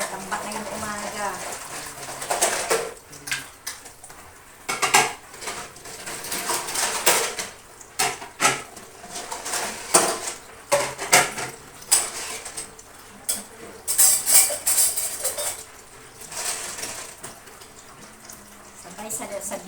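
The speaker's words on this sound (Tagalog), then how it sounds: "linis ng plato" Plates and cutlery being washed at a sink in the morning, running water with frequent clinks and clatters of dishes, close and uneven, with a voice talking over it at times.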